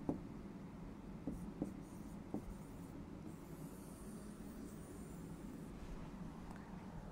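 Chalk or marker strokes on a board during an English grammar lesson in a classroom, a few faint taps and scratches over steady low room hum, with no talking.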